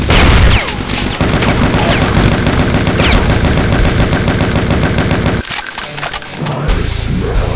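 Rifle fire in the first-person shooter Brutal Doom 2 rattles on in a loud, dense, continuous automatic stream, breaking off briefly near the end before resuming, with no talking.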